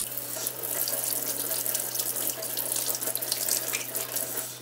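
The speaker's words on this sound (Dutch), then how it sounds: "Daarna met water afspoelen." Hands being rinsed under a running tap after washing, a steady close splashing rush of water into a sink, continuous and fairly loud with no talking.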